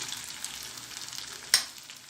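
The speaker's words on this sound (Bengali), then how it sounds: "এগুলো আমি 2 পাশে লালচে করে ভেজে পরে উঠিয়ে নেব" Onion fritters (piyaju) fry in hot oil with a steady soft sizzle, and one brief sharp crackle or pop stands out near the end.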